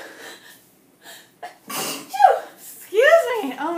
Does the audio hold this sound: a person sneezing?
yes